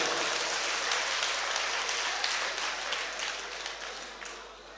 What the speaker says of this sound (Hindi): एक बार जोर से तालियां बजाएं, मुझे पता चले।